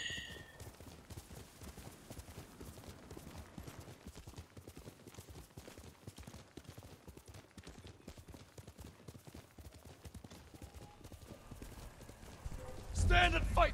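Hooves of Kage, a horse in the Ghost of Tsushima video game, clip-clop in a steady, quick gallop rhythm throughout, moderately loud and close, ending with a sharper burst of louder sound.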